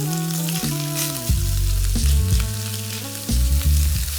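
Sausage sizzles in a large pan with a couple tablespoons of olive oil, a steady bright frying hiss under a loud tonal hum that shifts pitch, close and continuous.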